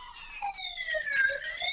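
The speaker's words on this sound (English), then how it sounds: "that's an ambulance just going past." An ambulance siren wails as it passes along a street in Sydney, a steady rising and falling tone at moderate distance, heard on its own.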